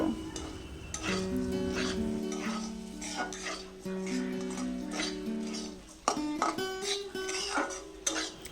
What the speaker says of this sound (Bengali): ডালিয়া গুড়টাকে সবজির সঙ্গে খুব ভালোভাবে ভেজে নেব